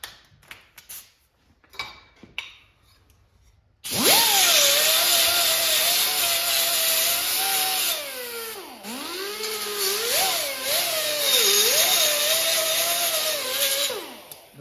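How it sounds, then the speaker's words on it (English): Small power grinder removes metal burrs from the back of a part while restoring a Tapper arcade cabinet. After a few quiet taps it spins up to a loud, steady whine whose pitch dips and rises as pressure on the metal changes. "I'm just gonna take my little grinder again and just get rid of the metal burrs on the backside"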